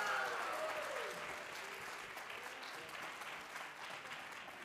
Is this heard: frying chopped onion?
no